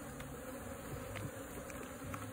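Bees hum steadily inside a hollow tree trunk during a hive rescue, a faint, continuous drone with no voices.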